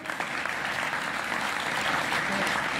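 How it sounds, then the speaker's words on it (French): Sustained applause from an audience at a French departmental political rally in the Yvelines, a dense, steady wash of many hands clapping throughout, fairly loud and even from start to end. "Merci Philippe, vous pouvez l'applaudir."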